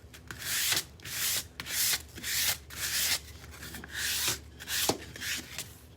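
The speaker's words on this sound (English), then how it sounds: "It sands like velvet." Hand sanding of a surface coated with Old World finishing paint, heard as repeated close, raspy scrubbing strokes in an uneven rhythm with brief pauses between passes.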